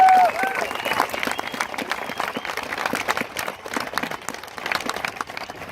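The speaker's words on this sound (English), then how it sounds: "let's give them a round of applause." An audience applauds at a US Air Force basic military training graduation, dense sustained clapping from a large crowd filling the space, with a short tone at the start and faint voices mixed in.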